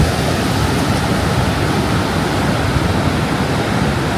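A river rushing over rocks in remote Canada gives a loud, steady, close roar of broadband water noise that holds unchanged throughout.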